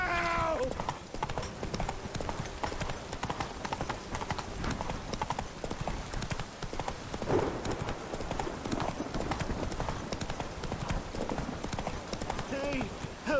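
Hooves of the horse Roach clip-clop in a steady galloping rhythm through a Witcher 3 game scene, loud and continuous, with game music and occasional voices underneath.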